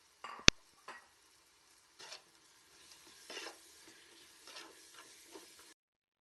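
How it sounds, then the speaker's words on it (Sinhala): Spices are stirred into hot oil for a Sri Lankan biryani: a sharp click, then faint, sparse scraping strokes with a light sizzle in a quiet room. "අපි අනිත් තුන පහ ටික මෙතෙන්ට එකතු කරලා අපි මේක හොඳට කලවම් කරගන්නවා"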